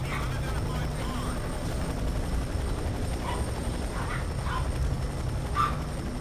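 A helicopter in the video game F.3.A.R. keeps up a steady low rotor drone throughout, with a few faint intermittent sharp sounds over it and a voice speaking under it.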